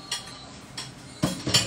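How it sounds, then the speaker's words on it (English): A spoon clinks and scrapes in a pan of shrimp and cream, with several separate metallic taps and scrapes in quick succession, close and fairly quiet with no talk. "you give that a good mix for me"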